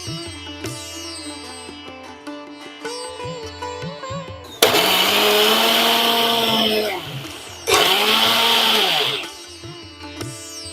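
A kitchen mixer grinder whirs loudly grinding batter for Thinai uppu urundai, running in two long bursts with a short pause between, with quieter background music before and after.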